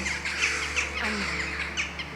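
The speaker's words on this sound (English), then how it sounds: "I don't know if you can hear the birds, but even the sound of the birds, it's just a really nice sound." Birds call and caw repeatedly outdoors on a cold winter walk, with several crow-like squawks rising over steady low background noise, moderately near and alone without talk.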